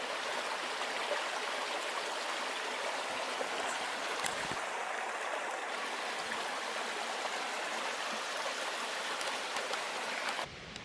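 The Caribou River flows steadily beside a hiking-trail campsite near Lake Superior, a continuous broadband rush of running water, close and even, with no voices.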